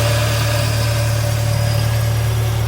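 A classic Morris Minor engine idles steadily and loudly up close, warming up after years off the road. It makes an even, low, continuous hum with no revving or changes in pace.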